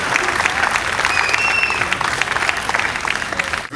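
Dense, steady applause from a concert audience welcoming a high school jazz band before a spring tour performance in San Francisco, with a few whistles cutting through the continuous clapping.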